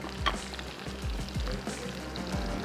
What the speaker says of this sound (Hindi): तो ये अब हमारा तैयार हो रहा है भगार।